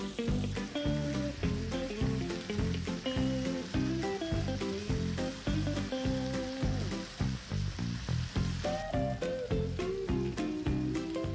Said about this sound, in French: Le feu un peu fort au début, puis mettez le feu doux et laissez cuire doucement sans trop les toucher.